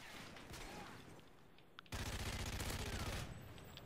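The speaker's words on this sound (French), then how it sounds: "je mets un silencieux sur mes light machine gun" A suppressed light machine gun fires in a first-person shooter video game, sounding as sustained rapid bursts that grow louder and denser partway through, with no talking.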